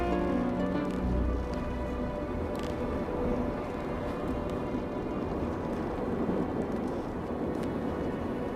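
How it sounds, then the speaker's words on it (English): Thunderstorm raging below a drifting balloon: a steady roar of rain-like noise with deep rumbling thunder near the start, continuous and fairly loud throughout. "while the storm rages on below us"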